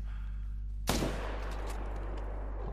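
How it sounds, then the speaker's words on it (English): A single loud rifle shot fired at a lion in the hunting game theHunter, a sharp crack followed by a fading outdoor echo over a steady low ambient hum. "Risky shot."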